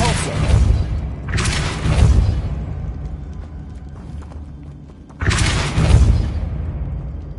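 Heavy booming bursts from a Depulso spell cast in a Hogwarts video game, two loud broadband blasts with rumbling low end, separated by a quieter stretch, with no talk over them.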